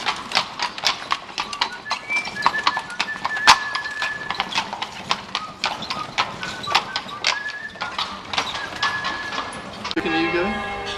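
Horse hooves clip-clop in a steady walking rhythm on a Vienna street near the Judenplatz, fairly close and clear, with an occasional whinny and a burst of other street noise at the end.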